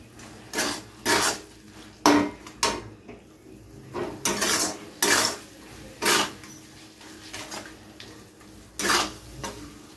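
Spice masala for chicken darbari being stirred and sautéed in a pan: loud, close bursts of a metal spoon scraping and clanking against the pan in an uneven rhythm, with a low sizzle between strokes.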